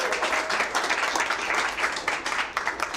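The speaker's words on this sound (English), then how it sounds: "give them a round of applause" A city council meeting audience applauds a back-to-back state champion high school basketball team from El Reno; the clapping is moderate, fluttering and uneven, and continues steadily through the short stretch.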